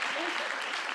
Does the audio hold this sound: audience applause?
yes